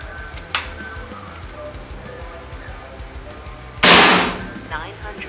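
A GK Mini Gen 3 PCP air rifle fires two sharp cracks, a small one early and a louder, broader blast later that rings out briefly, over faint background noise.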